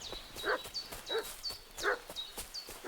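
A dog in the video game Kingdom Come Deliverance 2 barks and yelps repeatedly in a steady rhythm, with sharp clicks and a high chirping tone alongside.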